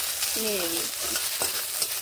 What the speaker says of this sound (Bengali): আলুগুলোকে একটু ভালো করে ভেজে নেব।